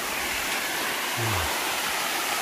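A mountain valley stream in Bukhansan flows steadily over rocks, a constant broadband rush close by with no speech.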